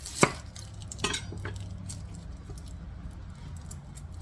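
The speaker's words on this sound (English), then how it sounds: "1 onion chopped finely." A knife chops a large onion on a board: a couple of sharp, distinct cuts near the start, then softer scattered taps fading into a quiet kitchen.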